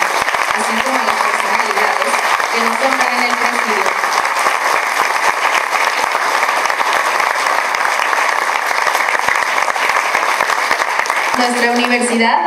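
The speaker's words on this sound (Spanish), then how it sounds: "Demos un fuerte y caluroso aplauso a nuestros graduados de la generación 2022" Audience at a Universidad Virtual del Estado de México graduation ceremony for the class of 2022 applauding, a dense, steady wash of clapping lasting throughout, with a voice over a loudspeaker at the start and end.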